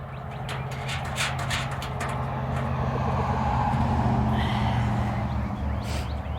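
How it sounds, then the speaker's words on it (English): Cars pass on a road near a backyard with songbirds, a steady low traffic rumble that swells and fades over several seconds while faint bird chirps break through and no one speaks. "now that I am recording again, all of the cars are back"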